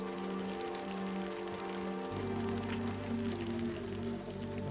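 Soft rain ambience in the game Book of Hours, a quiet steady patter under sustained low musical tones, with the low background shifting partway through.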